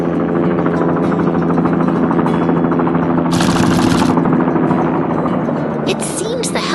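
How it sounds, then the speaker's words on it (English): An animated helicopter flies over a city in a 3D cartoon, a loud continuous rotor chop with a steady thumping rhythm, joined by brief bursts of bright hiss partway through. "The helicopter is back in the air, soaring peacefully above the city once more."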